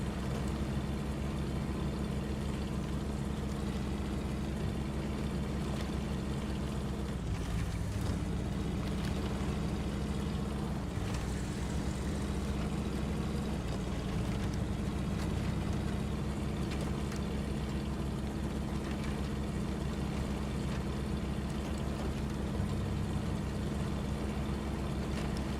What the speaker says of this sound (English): I like this engine sound, man.